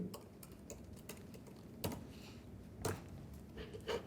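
Computer keyboard typing while a name is entered into a Premiere Pro type tool, a steady stream of light key clicks with a few sharper taps standing out, close and clear with no talking.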